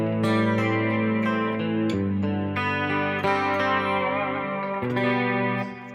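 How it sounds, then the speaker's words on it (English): Sustained guitar notes and chords through the wave chorus effect of Overloud TH-U, a lush, shimmering chorus that wobbles the pitch, playing continuously without any voices. "This is the wave chorus."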